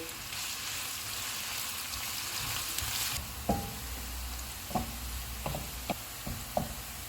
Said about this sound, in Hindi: ऑयल गर्म हो गया, इसमें प्याज डालेंगे। इनको गोल्डन फ्राई करेंगे।